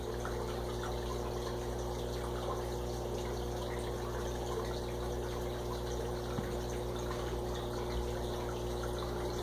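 Water runs steadily in a predatory fish tank holding red wiggler worms, a continuous low pump-like flow with a broad bubbling wash that stays even throughout, with no talking.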